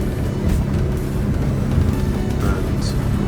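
A Jeanneau Merry Fisher 1295 motorboat runs at about 23 knots and 3,900 RPM near Dartmouth, its engine a steady, low, close drone with a voice talking over it.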